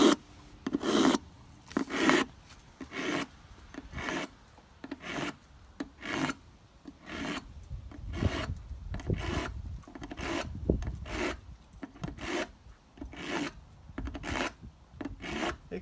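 Rhythmic rasping strokes of a metal spatula being sharpened, each pass scraping with a harsh chatter, repeated steadily about once per second, close up.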